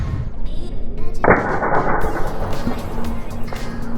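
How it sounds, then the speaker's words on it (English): A single sharp air rifle shot cracks out from an FX Impact M3 fired from a kneeling position at a bird about 41 meters away, with a brief loud burst that fades over outdoor background noise. "Not an easy shot from the knee, but straight through the wing and lungs."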